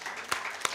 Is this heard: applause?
yes